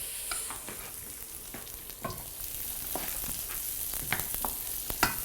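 Onions and peppers stir-frying in a hot pan: a constant crackling sizzle punctuated by scraping stirs and sharp clacks of the utensil, fairly close and with no talking.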